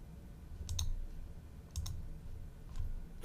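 Three quiet computer mouse clicks, spaced about a second apart, against a soft background hum at a desk.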